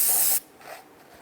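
A short, loud hiss from a spray can aimed at a cleaned exhaust manifold surface on a 1999-2004 Jeep Grand Cherokee, cutting off sharply after a fraction of a second into quiet handling noise.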